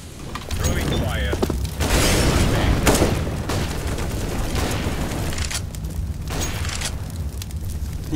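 A fire grenade is thrown in a Counter-Strike match, and a sustained roaring burst of fire follows, loud and continuous, with gunfire and game effects mixed throughout.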